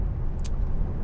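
Cabin drone of a 2012 Hyundai i40 1.7 CRDi diesel pulling at 30 mph in sixth gear, a low steady engine and road hum for about a second with a brief faint hiss partway through.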